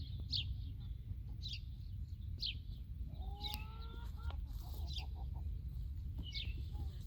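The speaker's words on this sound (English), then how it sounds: "Some loose chickens" Loose chickens cluck softly in a homestead garden in West Texas over a steady outdoor hum, with faint bird chirps scattered throughout.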